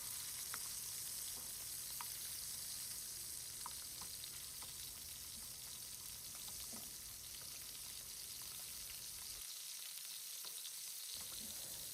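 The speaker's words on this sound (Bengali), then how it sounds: "চিকেন ভাজার পর আমি আলুগুলোও একটু করে ভেজে নিয়েছি" Chicken and potatoes frying in oil, giving a steady, close hiss of sizzling with occasional small pops. It runs evenly for about twelve seconds, alone with no talk.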